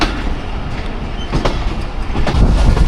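The Awam Express passenger train rolls from Rawalpindi toward Lahore near Chaklala station with a loud, continuous rumble and faint rail clatter, heard steadily throughout.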